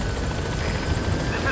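A video game helicopter arrives at a landing zone, its steady rotor thrum and engine whine filling the scene at a constant, fairly loud level without a break.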